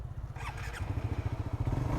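A Suzuki GSX-R motorcycle engine starts and idles close by with a rapid, throbbing low putter that grows steadier and a bit louder.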